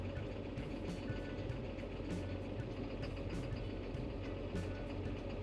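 A John Deere 7930 tractor engine with suspected failing injectors runs with a continuous low, dense clattering drone, steady and close without pauses.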